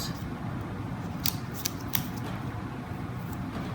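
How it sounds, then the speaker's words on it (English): Scissors snip while cutting out paper shapes, giving a few quiet, crisp clicks close by over a low steady room hum, with no talking. "I'm going to cut out some different shapes"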